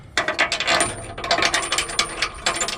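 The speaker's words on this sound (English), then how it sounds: "we're going to go ahead and slide the nut plate up into the bumper" A steel nut plate slides into a Smittybilt XRC Gen 2 rear bumper on a Jeep JK, producing loud, close, repeated metallic scraping and clacking in an uneven rhythm, with no talking.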